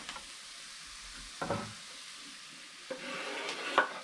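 Onions and garlic frying in a pan for chicken adobo, a steady soft sizzle with a few louder stirring scrapes and clinks breaking through, close and without voices.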